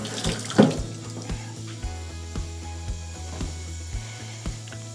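Squid are rinsed under a running tap at a campsite. Water streams steadily and close by, with small irregular splashes and clicks as the squid are handled beneath it.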